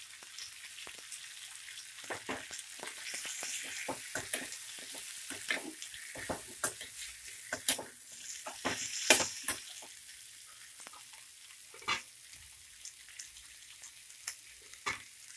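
Drumstick leaves and tamarind fry in a hot pan for soup, giving a steady close sizzle broken by frequent sharp crackles and the scrape of a stirring spoon, with no voices.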